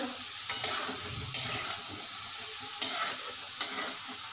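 Cubed potatoes for sabudana khichdi frying in a pan, a steady close sizzle broken by four sharp scraping stirs spaced unevenly, with no voices.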